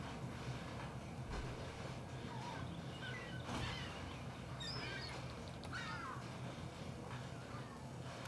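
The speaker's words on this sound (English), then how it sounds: "Those seagull noises there in the background." Seagulls calling in the background near a model railroad operating session, several short rising squawks scattered over a busy, steady background hum.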